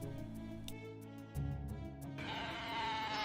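Goat bleating amid sheep, a series of wavering bleats that grow louder and more layered toward the end, close and clear with no talk.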